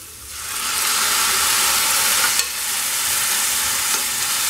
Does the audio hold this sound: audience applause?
no